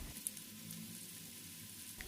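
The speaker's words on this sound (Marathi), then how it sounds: "तेल व्यवस्थित गरम झालं की स्टिक आपल्याला तेलामध्ये सोडायचे आहे" Soft, steady sizzle of wheat-flour potato sticks frying in hot oil in a kadhai, faint and even throughout, with a couple of small ticks.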